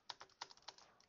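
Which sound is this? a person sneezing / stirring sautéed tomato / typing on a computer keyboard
typing on a computer keyboard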